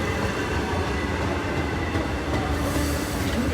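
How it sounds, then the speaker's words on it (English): A fast commuter train rushes into Mineola station with a dense, loud, continuous roar of wheels and rumbling cars, a faint squeal rising near the end, heard from close trackside. "this train is flying into the station"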